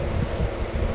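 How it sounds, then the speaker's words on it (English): A steady electric fan whooshes close by in a hot room, a constant broadband hum with no breaks and no voices. "That's what that noise is, the fan."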